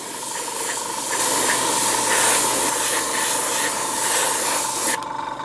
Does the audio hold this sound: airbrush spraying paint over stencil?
yes